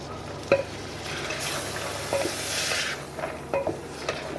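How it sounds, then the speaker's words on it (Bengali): Chickpeas and soaked potatoes being sautéed in a pan, giving a steady soft sizzle with occasional sharp clinks and scrapes of a spoon stirring against the metal, no talking. "সব দিয়ে আমাকে ভালোভাবে এগুলো একটু কষে নিতে হবে।"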